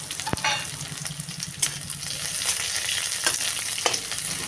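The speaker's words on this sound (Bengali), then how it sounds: "রসুন ভাজা হয়ে গেলে দিয়ে দেব বেশ খানিকটা কেটে রাখা পেঁয়াজ। এটাকেও ভালো করে ভেজে নিয়ে" Chopped onions and crushed garlic sizzle in hot oil, a steady close crackling hiss punctuated by a few sharp clicks of a spatula against the pan.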